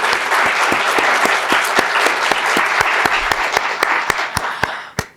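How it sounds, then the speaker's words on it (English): An audience at a medical ethics colloquium applauds the speakers steadily, with a few sharp individual claps standing out as the clapping tapers off at the end. "Another round of applause for our speakers."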